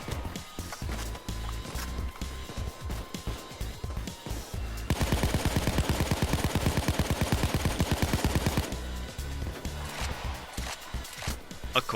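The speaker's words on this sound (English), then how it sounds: "using the weakest assault rifle with the lowest rate of fire" Sustained automatic assault rifle fire in the shooter game Payday 2, a fast steady stream of shots that swells louder in the middle and continues more quietly at either end.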